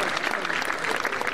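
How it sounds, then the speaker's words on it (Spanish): Audience applause for a dancer from the Tierras de Araúzo dance group at a village event in Araúzo de Miel, Burgos, a brief, steady patter of clapping from a small crowd with no clear breaks. "Un fuerte aplauso para la Pili"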